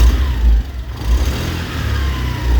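A Honda Activa 125 scooter engine hums steadily, with a rising transmission whine that swells and dips as the throttle changes, close and fairly loud.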